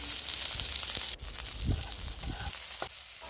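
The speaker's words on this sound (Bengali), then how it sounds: "এবারে তেজপাতা, জিরা, একটা শুকনো লঙ্কা ফোড়ন দিয়ে তার মধ্যে পেঁয়াজগুলোকে দিয়ে খানিকক্ষণ" Onions sizzling in hot oil with bay leaf, cumin and a dried chilli for Bengali chana ghugni, a steady close frying hiss with a few stirring scrapes and a brief quieter dip near the end.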